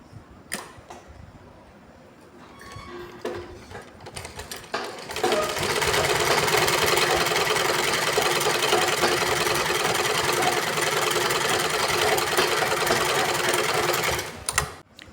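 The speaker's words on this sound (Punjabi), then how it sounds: "ਹੁਣ ਅਸੀਂ ਸਲਵਾਰ ਦੇ ਆਸਨ ਨੂੰ ਸਿਲਾਈ ਲਗਾਵਾਂਗੇ" A sewing machine stitches the seat of a salwar, opening with a few short, hesitant bursts, then running in a steady, loud, continuous whir for about nine seconds before stopping abruptly.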